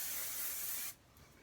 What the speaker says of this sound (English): And what I'm using is this Aussie Instant Freeze hairspray.